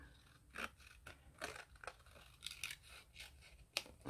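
Scissors fussy cutting paper for a collage, a run of short, faint snips and crisp paper rustles in an irregular rhythm, close by, with no talking.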